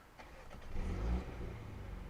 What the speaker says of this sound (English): So let's get this car started